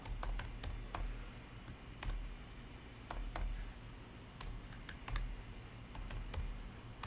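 Computer keyboard keys are typed in quick, irregular clicks, close and fairly quiet, with no voices.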